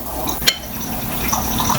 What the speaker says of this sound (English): Just pour oil over the fritter so that it gets cooked all over